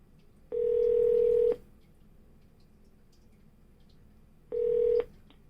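Two separate DTMF dialing tone bursts from a Yealink desk phone, each about a second long, clear and steady against a quiet background with a pause of several seconds between them.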